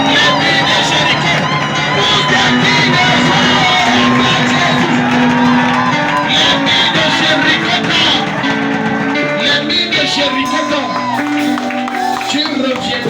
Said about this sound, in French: Acclame le Seigneur avec des cris de joie.